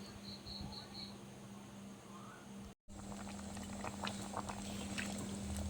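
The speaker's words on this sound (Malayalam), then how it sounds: "ഇനി നല്ലോണം ഒന്ന് വേവിക്കട്ട്" A Kerala koottukari of yam and chickpeas cooks in added water, giving a soft continuous bubbling with a low hum. A brief dropout splits it midway, and the bubbling sounds busier afterward.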